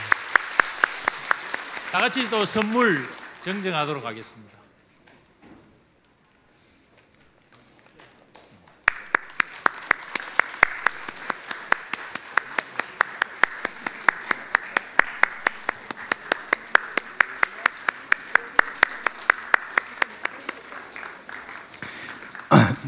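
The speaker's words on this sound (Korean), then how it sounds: "박수 한 번 더 쳐주시기 바랍니다." Church congregation in a Sunday service applauding new members: broad, loud clapping from a large room follows a spoken announcement, with sharp claps continuing alongside talk after a brief lull.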